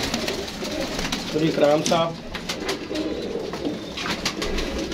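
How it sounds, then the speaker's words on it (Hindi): Golden pigeons in a breeding pair coo in bursts of soft, rolling calls, with one louder call partway through. Someone speaks over them at close range. "ये उनके कबूतर जो है ना माशाल्लाह जोड़े लगे हैं।"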